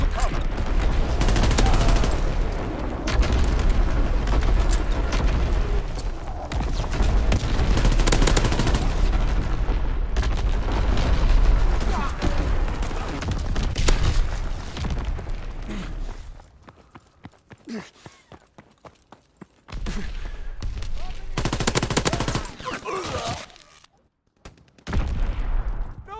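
Enemy artillery barrage in Call of Duty: WWII, loud rolling blasts and gunfire for about fifteen seconds, then quieter sparse impacts and a final burst of explosions.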